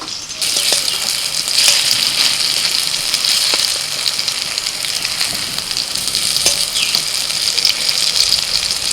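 Soybean dumplings fry in hot oil in a pan, a loud, close, continuous sizzling crackle with occasional sharper pops throughout.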